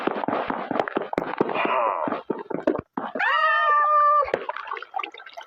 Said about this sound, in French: Oh, c'est des pauvres petits chats, ils sont coincés.